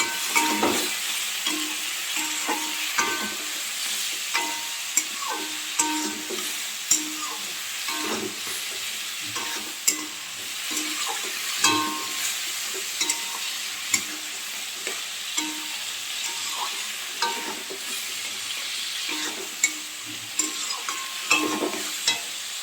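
Vegetables with turmeric lightly frying in a pan for moong dal, a steady soft sizzle with repeated scraping stir clicks, close and continuous with no talk.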